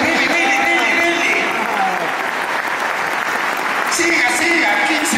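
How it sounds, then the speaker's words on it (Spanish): Sustained applause from a concert crowd for a singer, loud and steady throughout, with scattered voices and cheers mixed in. "Esencial del artista, del músico, el aplauso."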